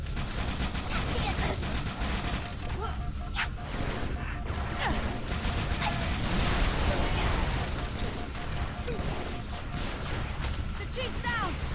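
Halo 3 gunfire from a Jackal enemy mixed into a dense, continuous wash of game combat noise with sharp bursts and pops throughout, while a player talks over it.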